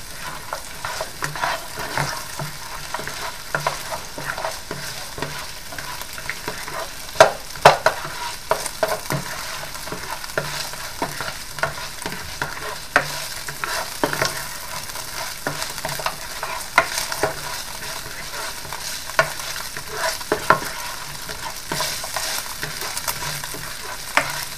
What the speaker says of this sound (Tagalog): Igisa natin ng konti yung ano.